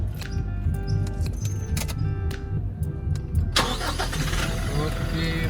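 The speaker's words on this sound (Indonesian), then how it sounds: "sambil nyalain aja ya, sambil dengerin cold start-nya kayak gimana" A 2021 Toyota Innova facelift diesel engine cranks over on a cold start and catches, settling into a rough, rumbling idle close by, with people talking over it.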